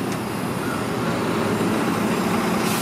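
London bus WVN31 on Route 57 in Kingston upon Thames passes through a bus station, its engine a steady, loud broadband rumble with traffic noise around it and no voices.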